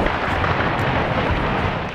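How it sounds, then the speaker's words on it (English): Volleys of gunfire traded between opposing sides in residential streets during deadly clashes in Mariupol, blending into a dense, continuous, loud roar of rapid shots with no voices. "Volleys of gunfire were being traded in residential streets"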